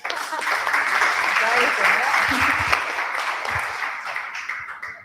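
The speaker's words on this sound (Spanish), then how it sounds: "Michelle, démosle un aplauso a Michelle." Sustained applause from a crowd at a science expo in Nicaragua, steady and fairly loud for several seconds, with a few voices mixed in before it tapers off.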